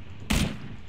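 A single sharp gunshot burst in PlayerUnknown's Battlegrounds erupts at close range and fades into a lingering rumble, standing alone without speech.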